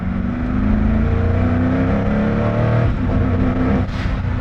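A Koenigsegg Agera supercar's 960-horsepower engine drones loudly from inside the car while driven, a sustained, close roar with rising pitch as it pulls.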